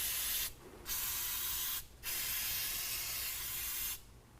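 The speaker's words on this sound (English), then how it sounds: "Again, we're just going to spray those down really well." An aerosol can of silicone spray hisses onto rubber exhaust hangers behind a muffler during a Flowmaster Force II exhaust install, in three close, steady bursts with brief gaps between them.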